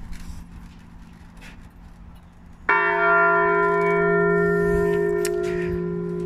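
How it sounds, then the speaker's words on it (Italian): The large bell in the bell tower of San Francesco church in Vigevano is struck once after quiet background. It rings out loud and close, with a long sustained hum that slowly fades. "adesso vi farò sentire il suono della campana grossa"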